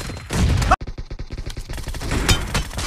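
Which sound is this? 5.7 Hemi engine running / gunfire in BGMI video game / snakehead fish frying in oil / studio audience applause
gunfire in BGMI video game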